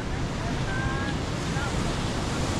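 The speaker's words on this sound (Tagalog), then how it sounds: "Kalalaki ng alon oh." Big sea waves and strong wind during a typhoon at sea, heard from a small boat as a steady, loud roar of surf and wind buffeting the microphone, constant throughout.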